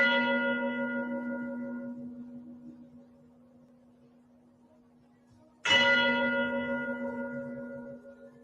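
A church bell strikes once with a long humming decay. It fades almost to silence, then a second loud strike rings out and slowly dies away.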